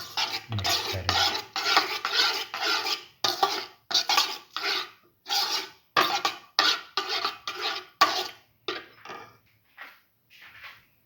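A utensil beats cinnamon powder into an omelette mixture of egg and potato, making rhythmic scraping strokes against a bowl in quick bursts that slow and fade toward the end, with no talking.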